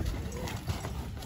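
Horse hooves clip-clopping in a steady walking rhythm, heard close over outdoor background noise.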